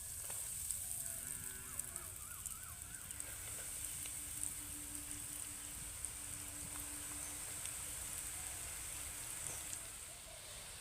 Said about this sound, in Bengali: এবার আমি এগুলোকে ভেজে নেব